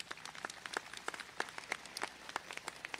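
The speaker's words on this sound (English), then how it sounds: "Round of applause for that." Sparse, faint applause at a Guilford College commencement, scattered individual claps in an irregular patter that sounds thin and distant.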